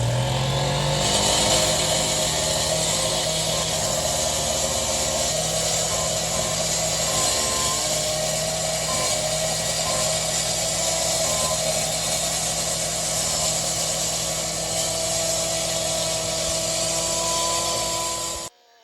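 An excavator works on a construction site lifting a cut concrete slab, a loud continuous diesel engine and hydraulic whine holding steady throughout, close by, with no voices, ending abruptly.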